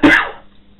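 A single sharp cough from a teacher alone at home, loud and close, with a short burst that fades quickly into quiet room tone.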